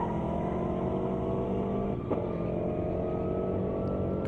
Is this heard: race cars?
yes